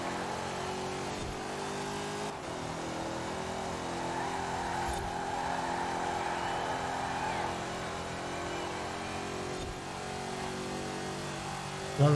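A race car engine in the video game Forza Horizon 4 drones steadily at moderate level, easing and picking back up as the throttle is released and reapplied on track, with a brief louder burst at the end.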